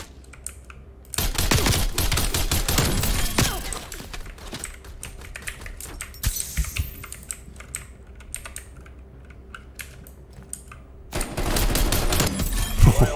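Semi-automatic gunfire from Black Ops Cold War rings out in loud, rapid clusters of shots, then a quieter gap, then a further burst near the end.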